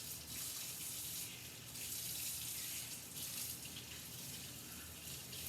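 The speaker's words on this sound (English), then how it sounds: "So I'm just going to wash each leaf." Vegetable leaves being washed one at a time under a running kitchen tap, a steady loud stream of water splashing into the sink throughout, with slight changes as the leaves are moved through the flow.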